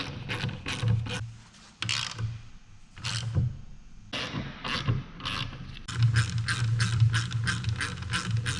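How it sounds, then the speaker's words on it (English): A torque wrench ratchets as it tightens the differential cap bolts on a Salisbury differential with a Dana 44 carrier, close and loud. Bursts of rapid ratchet clicks repeat in a regular rhythm, with no talk. "the torque spec for these cap bolts is 60 foot-pounds, so we're going to use a torquing sequence of snug,"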